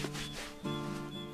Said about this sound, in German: Schön trocken reiben, ne?